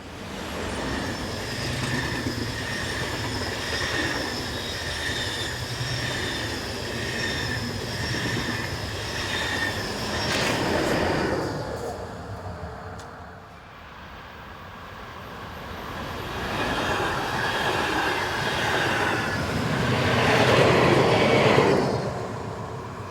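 Trains pass just north of Frutigen station on the BLS Thun–Kandersteg line in Switzerland, with 460015 northbound meeting 565740. A long, loud rumble of rolling stock with wheel squeal fades briefly midway before another pass swells back.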